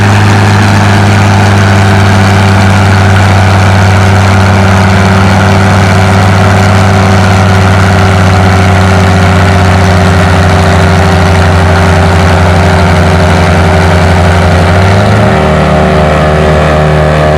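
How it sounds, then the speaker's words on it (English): John Deere 435 tractor engine at a tractor pull, pulling a 4,000-pound sled at 4 mph. The engine drones loudly and steadily with a deep, strong hum and shifts pitch near the end, close and alone. "Got Don Bias back on his John Deere 435"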